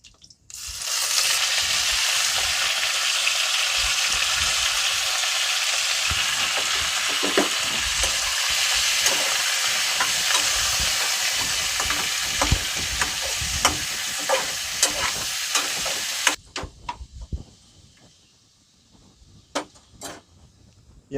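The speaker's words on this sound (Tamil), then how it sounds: "இப்போது சிக்கனை உள்ளே போட்டுக்கிறோம்" Chicken pieces for a dry red chilli chicken fry in hot oil in a pan with a loud, continuous sizzle and frequent stirring scrapes, then the hiss drops away to near silence with a few scattered clicks.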